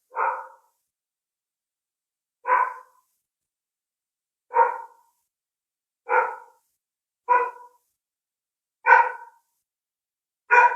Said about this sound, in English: That dog can hear us.